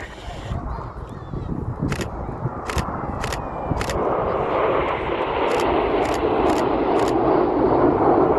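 Red Arrows jets fly past at the Cosford airshow, a roaring engine noise that grows steadily louder and broader, with rapid camera shutter clicks in between and a commentator talking over it.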